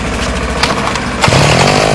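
Small petrol engine on a hand-controlled four-wheel scooter, started by pull cord with the choke set, buzzing loudly and close, then surging into a rougher, fuller running note partway through.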